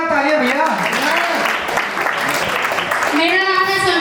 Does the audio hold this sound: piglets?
no